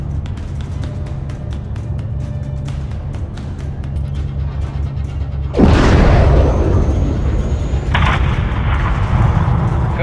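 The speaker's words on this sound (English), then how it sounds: "have your man drop a missile on that hangar" A missile strike levels an aircraft hangar in a Call of Duty: Modern Warfare 3 cutscene, a sudden heavy blast cutting through a low rumbling drone, followed by sustained roaring debris and crackle, with a second burst of noise moments later.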